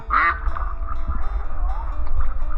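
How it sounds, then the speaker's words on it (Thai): A duck gives a raspy quack up close over a low rumbling background, followed by softer murmuring noises. "โอ้ยอันนี้เป็ด"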